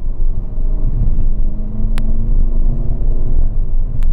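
A Fiat Egea 1.6 Multijet diesel with a six-speed dual-clutch automatic roars under full throttle, a loud steady drone with low rumble rising slightly, one brief click partway through.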